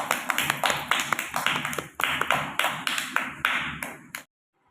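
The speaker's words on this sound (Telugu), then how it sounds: "వెరీ గుడ్ క్లాప్స్ కొట్టండి" A group of children clap along during a Telugu rhyme and learning game, a run of close, loud, uneven claps that keep going for about four seconds and then stop suddenly into silence.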